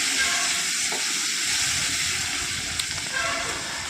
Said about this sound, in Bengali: এখন টমাটো দিচ্ছি পেঁয়াজ ভাজা করে